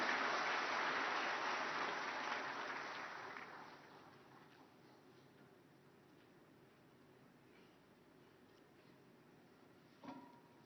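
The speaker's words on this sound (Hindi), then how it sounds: "और एक बार तालियों के साथ स्वागत माननीय मंत्री जी का।" Applause from an audience welcoming a minister at a formal MSME programme event, a dense clapping wash that fades over the first few seconds into a quiet room, ending with one brief thump.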